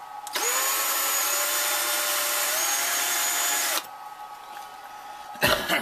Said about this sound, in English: we're going to take our drill for the tap, and now that we have the three bolts back in here, we're just going to score into the plastic